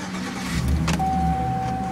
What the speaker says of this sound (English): Car started at this present time.